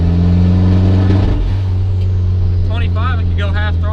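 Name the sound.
1994 turbo Mazda Miata engine revving with misfire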